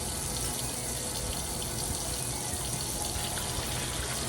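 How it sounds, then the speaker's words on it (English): Cold water runs steadily from a kitchen tap into a sink, a constant close hiss and splash that holds unbroken with no voices. "turn on the cold water."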